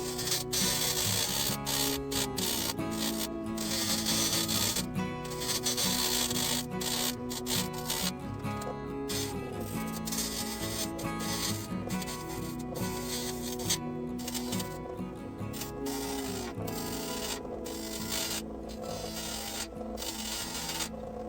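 A chisel cuts wood on a lathe while a candle holder is turned, making a continuous rough scraping and rasping over a steady motor hum, close and loud throughout.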